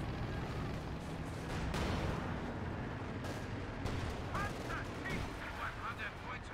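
KV-1 tank cannon firing in a WWII video game, sharp booming shots punctuating a dense, noisy battle backdrop of distant gunfire and rumble, mid-level and continuous.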